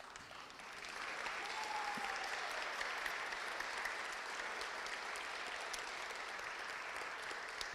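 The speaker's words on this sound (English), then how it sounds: "I just need one more round of applause from you." An audience at a poetry recitation state finals championship breaks into sustained applause, a dense, steady wash of clapping that swells after a moment and continues evenly at moderate distance.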